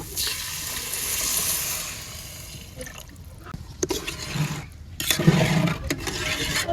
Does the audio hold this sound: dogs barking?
no